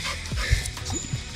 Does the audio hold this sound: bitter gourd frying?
no